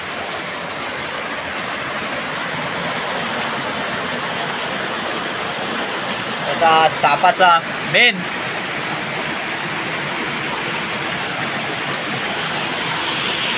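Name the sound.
water pouring down from above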